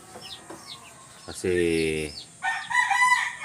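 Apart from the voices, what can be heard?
rooster crowing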